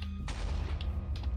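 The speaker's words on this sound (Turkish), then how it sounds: "Creeper patladı." A creeper explosion in Minecraft bursts out loudly as a sudden broadband blast, then rumbles on with a low, heavy roar and a couple of further cracking hits near the end.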